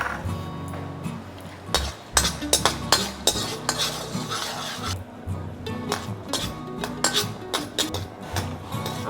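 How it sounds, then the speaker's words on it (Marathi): Peanuts dry-roasting in a pan rasp and rattle as they are stirred, with scattered sharp clinks and pops rising over a low background hum, close and moderately quiet. "आमचे शेंगदाणे फुटत आयल्या पळयात."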